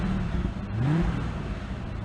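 Car driving off in the video game The Dukes of Hazzard II, a brief engine rev that rises in pitch over low game background noise.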